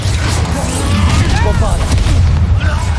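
In Hogwarts Legacy, an Incendio fire spell erupts with a loud, rumbling boom and roaring, crackling bursts amid game combat, a character's voice sounding in the mix.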